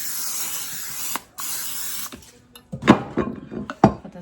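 Cooking spray hisses onto a baking pan before cornbread goes in: two sustained bursts of close, airy spray, followed by several sharp knocks and clatters as the can and pan are handled.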